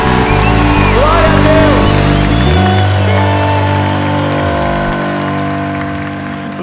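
A church congregation at a Catholic Mass bursts into loud, sustained applause and cheering, a dense crowd roar blended with ongoing sung or played music that fades slightly toward the end.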